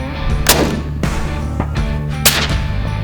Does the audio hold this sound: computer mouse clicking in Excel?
no